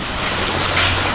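Hail pours down in a dense, loud, continuous hiss and patter, pelting surfaces and a car during a storm, with no voices.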